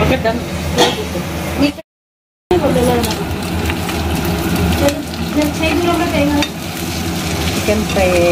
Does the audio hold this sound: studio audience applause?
no